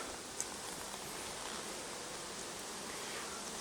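Honey bees swarm around an open hive, a faint, continuous hiss-like buzz with one tiny click early on and no talking.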